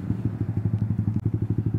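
A Yamaha motorcycle engine idles and putters in traffic, a rapid steady low thumping pulse, close and fairly loud, with no talk over it.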